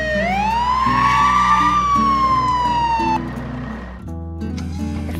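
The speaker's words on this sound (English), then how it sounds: "Just then, the boy heard a siren." A cartoon fire truck's siren wails loudly in one rising and falling sweep over a musical score, then cuts off as the music carries on alone.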